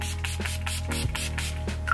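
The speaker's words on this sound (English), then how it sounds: "So first, I'm gonna start with my Mario Badescu spray. Spray, spray, spray." A Mario Badescu facial spray bottle is pumped in a quick series of short, soft spritzes, several fine mist bursts in rapid rhythm over a couple of seconds.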